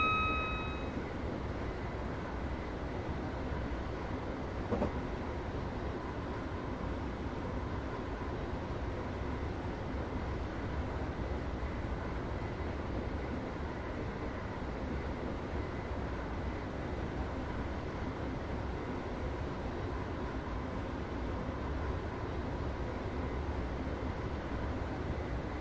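A Class 321 electric train cab coasting at speed through a tunnel, with a steady, loud, unbroken rumble and roar of wheels and wind that holds throughout.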